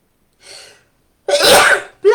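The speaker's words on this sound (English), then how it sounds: "I'm going to sneeze." A single close, loud sneeze with a short breathy intake before it, followed by the start of another burst.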